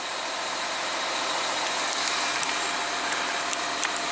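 A 2014 Audi Q7 TDI diesel engine idles steadily nearby, a continuous broadband rumble with a faint regular low pulse and a few light ticks, no voices.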